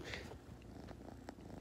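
Pet cat Oreo purring close up, a steady low rumbling purr that fills the short stretch on its own with no talking.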